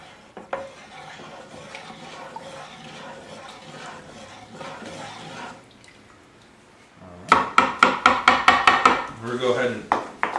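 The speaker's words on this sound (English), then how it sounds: "We're going to go ahead and stir this." Grape juice and activated yeast fermentation mixture with added sugar water being stirred in a container, a soft swishing at first, then a louder run of quick rhythmic clinks and scrapes from the utensil.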